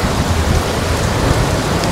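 Heavy rain pours down steadily during the rainy season in Pattaya, Thailand, a loud dense hiss of drops on surfaces with no voices.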